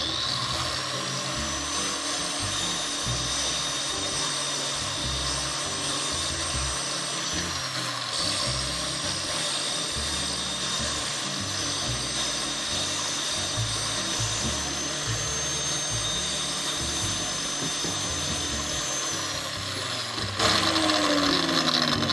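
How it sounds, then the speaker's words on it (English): A power tool grinds metal for a DIY light shade, making a continuous, steady, loud whir with a ratcheting mechanical rattle. A brief shift in tone comes near the end. "It doesn't take a whole lot to grind off the metal, so don't overdo it."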